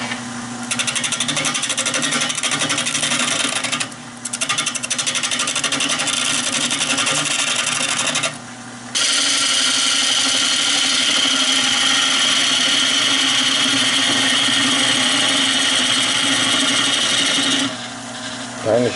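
A gouge hollows an oak bowl spinning on a wood lathe, producing a loud continuous shearing rasp over the motor's drone, broken by a few short pauses where the tool lifts away.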